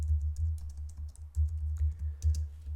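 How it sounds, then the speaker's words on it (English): Quick keystrokes tapped out on a computer keyboard while entering an npx command in a terminal, a steady run of light clicks over a low background hum, close and alone with no voices. "we are going to type npx"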